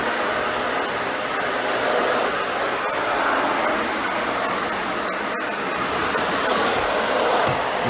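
A Dyson Ball Animal 2 upright vacuum runs on carpet indoors, a loud continuous whooshing roar with faint crackles, holding steady from start to finish without talk.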